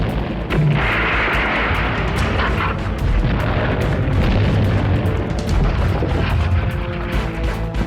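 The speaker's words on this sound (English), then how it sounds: "600-pound depth charges." Heavy, rumbling booms of 600-pound naval depth charges roll continuously, deep and loud, like a string of underwater explosions blending into one another with no voices.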